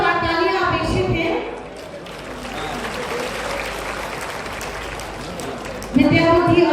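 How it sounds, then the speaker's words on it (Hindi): An audience bursts into several seconds of steady clapping at a school ceremony in Kanpur Dehat as flowers are offered before a Saraswati statue, with someone speaking just before and after. "आप सभी की जोरदार तालियां अपेक्षित हैं।"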